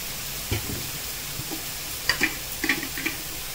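Tomatoes and dry spices sautéing in a pan: a soft sizzle runs throughout, broken by several sharp clinks and scrapes of a spoon stirring against the pan, close and fairly quiet, with no talk.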